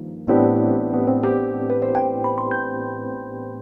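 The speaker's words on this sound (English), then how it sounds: "Got this really nice tremolo Rhodes." Tremolo Rhodes electric piano patch on a Korg D1 digital piano, a sustained chord struck then a few added notes ringing with pulsing tremolo, close and clear with no voices.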